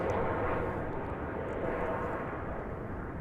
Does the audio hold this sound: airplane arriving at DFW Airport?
yes